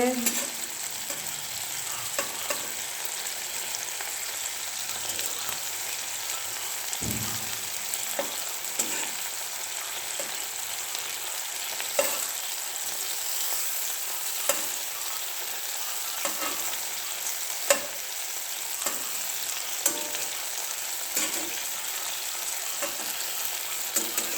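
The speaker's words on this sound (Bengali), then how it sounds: "দেখো টমেটো ফ্রাই হচ্ছে, লঙ্কা ফ্রাই হচ্ছে" Tomatoes and green chillies frying in a pan, a continuous moderate sizzle with repeated clicks and scrapes of a spatula spread through the stretch, no voices.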